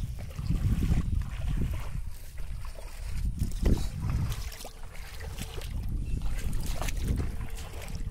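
A small fishing boat moves across water, with continuous low wash and splashing from the hull close by and wind noise throughout, steady for the whole stretch.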